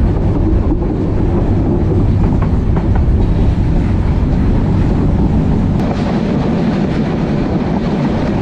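The Kurigram Express runs from Kurigram to Dhaka with a constant loud rumble of wheels and carriages, faint clickety-clack rhythm and wind buffeting the microphone throughout, steady and close with no talk.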